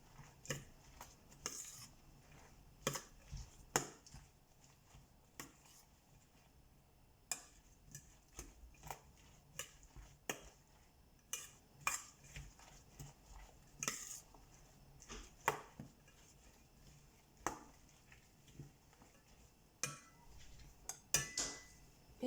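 Spoon stirring a leek, egg and crème fraîche quiche filling in a bowl, with scattered light clinks and taps against the dish, soft and close, no talk.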